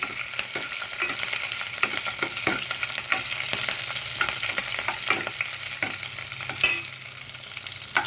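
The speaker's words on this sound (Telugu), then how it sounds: "ఇప్పుడు పచ్చిమిరపకాయలు వేసుకుంటాను" Green chillies fry with mustard seeds, cumin and red chillies in hot oil for a tomato onion yogurt chutney, giving a steady close sizzle broken by frequent sharp pops and stirring scrapes, with no talking.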